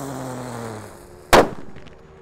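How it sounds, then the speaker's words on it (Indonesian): Terrator firecracker set off during Takbiran night fireworks, a steady fizzing hiss from the lit fuse, then one sharp, loud bang, with a short fading tail after it. "yang kita nyalakan di sini ada mercon Terrator"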